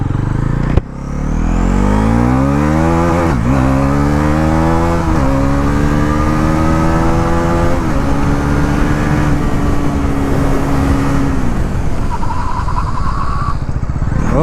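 A 2025 Bajaj Pulsar 400Z fitted with new sintered brakes and new tyres ridden on the road, its engine revving up through rising pitch sweeps with gear changes, loud and close under wind noise, no talking.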